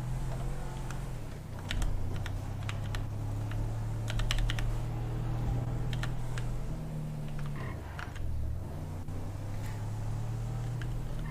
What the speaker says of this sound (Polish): słychać klawiaturę u niego